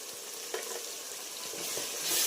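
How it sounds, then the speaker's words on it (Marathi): Ground spices, onion-garlic masala, garam masala and salt frying in hot oil in a pan for Maharashtrian masala rice, a soft steady sizzle that swells slightly near the end, close and alone. "छानपैकी असं फ्राय करून घेणार आहोत"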